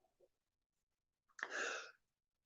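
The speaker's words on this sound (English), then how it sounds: "Gotta sneeze one more time." A single sharp sneeze rings out after a brief intake of breath, close and fairly loud against near silence.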